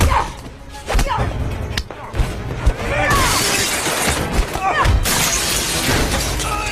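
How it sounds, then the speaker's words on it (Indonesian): Glass shatters in a hacker film fight scene as a man is kicked through a window and falls into a parking lot, with loud crashes, whooshes and thuds mixed under dramatic action sound. "Mai mampu beberapa kali menendang John hingga dia membentur kaca dan jatuh ke tempat parkir"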